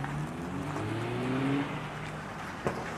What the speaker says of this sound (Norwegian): Så her kommer Volvo 740 i rundkjøringa